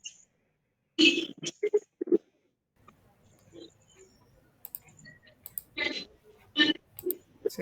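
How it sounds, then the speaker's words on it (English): Sharp mouse clicks while a save button is pressed on a computer, several distinct clicks scattered through the stretch among light typing-like ticks and brief bursts of nearby speech. "Click on save."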